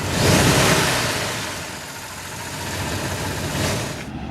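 A vehicle engine on the approach to the 12.9-kilometer Confederation Bridge between Prince Edward Island and New Brunswick gives a steady, fairly loud rumble mixed with broadband road and wind noise for the whole stretch, with no talking.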